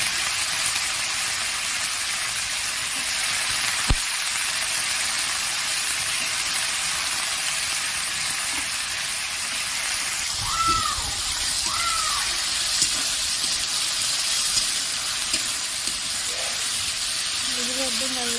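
Potatoes fry in oil in a Bengali home kitchen with a steady, close hiss that continues throughout, and a brief voice is heard over the sizzle.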